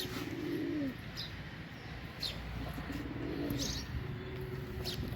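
A pair of long-kept domestic pigeons in a home loft coo in a few rolling, bubbling calls spaced apart, near but moderately soft, with faint chirps and light rustling between them.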